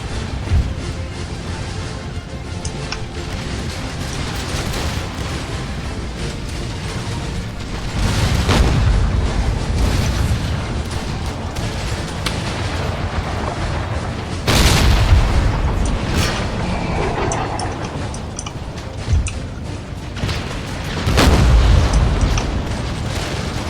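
Cannon fire rumbles in the Empire Total War game with a Prussian army, a loud continuous battle din of deep booms swelling in several heavy waves over dense background noise.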